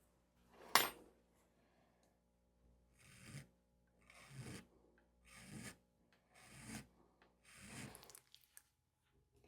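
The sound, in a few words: filing a repaired pipe stem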